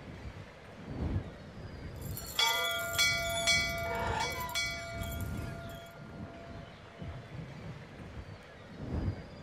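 Bells ringing in the video game Syberia, a bright, tonal chime that starts suddenly and rings for a few seconds before decaying, over faint background wind and ambience, with no speech.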